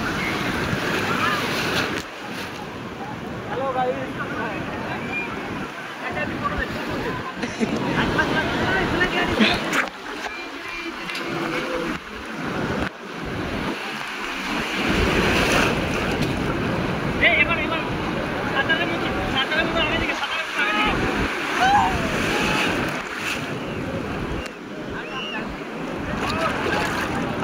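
Sea waves rolling onto Digha beach at high tide, a steady roaring wash of surf mixed with strong wind buffeting the microphone, while a person talks over it throughout.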